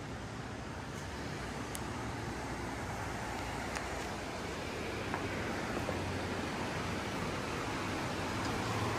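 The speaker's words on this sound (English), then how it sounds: "you can just listen to the ocean" Ocean surf at Bird Rock in La Jolla, heard from an oceanfront home: a continuous broadband wash of breaking waves, steady and fairly close, with no voices over it.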